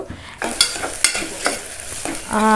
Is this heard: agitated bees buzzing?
no